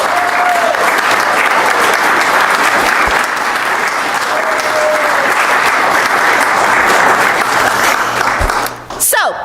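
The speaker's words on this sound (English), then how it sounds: "I know we've done the applause thing before, but we need to do it again for them." A church congregation gives loud, sustained applause that fills the room evenly, with a few faint tones in the background and a brief disturbance just before the end.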